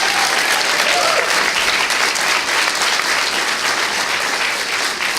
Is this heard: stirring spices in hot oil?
no